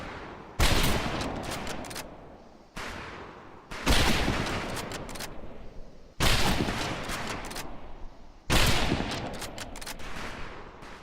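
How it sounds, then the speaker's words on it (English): Four loud bursts of sustained automatic gunfire at training targets in Medal of Honor Pacific Assault, each a sharp onset followed by a rapid rattling stream that slowly fades, separated by brief pauses. "I've been shooting at the wrong target, I think."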